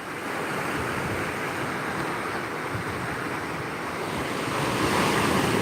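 Ocean surf at Primitive Beach in New South Wales, Australia breaks along a rocky shore as a continuous loud wash of rushing water that swells slightly toward the end, with wind buffeting the microphone.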